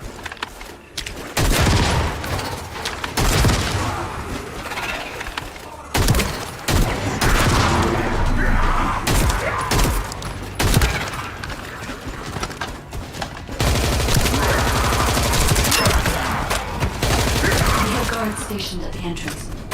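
Gunfire in the video game The First Descendant: dense volleys of loud, rapid shots and bursts, with brief pauses between barrages, while someone talks at times.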